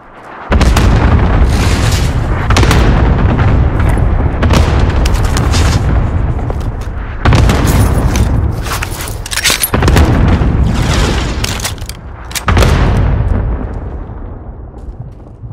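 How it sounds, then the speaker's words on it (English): Cluster strike explosions in Call of Duty, a rapid series of loud, heavy booms and rumbling blasts that roll on back to back for about fifteen seconds before fading, with no talking. "Cluster strike away."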